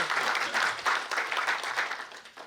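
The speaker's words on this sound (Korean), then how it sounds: "여러분 박수 부탁드립니다." An audience at a book launch applauds a speaker being welcomed to the stage, with moderately loud, rhythmic clapping from a hall crowd that tapers off near the end.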